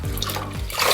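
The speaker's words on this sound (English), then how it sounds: "And then wring it out." Water wrung from a grout sponge while tiling a backsplash, a brief close splashing and trickling into a bucket that swells slightly at the end.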